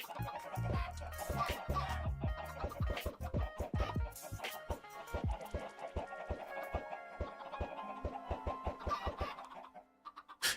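Minecraft chickens and baby chicks clucking in a modded game, a busy run of short, sharp, close clucks in quick irregular succession, slowing and thinning near the end.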